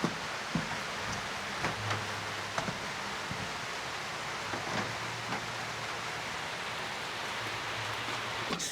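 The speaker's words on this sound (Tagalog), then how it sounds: "Ayun, saka umulan siya." Steady rain falls over a work site after roofing, a broad even hiss with scattered soft drips and thumps, fairly faint and continuous with no talking.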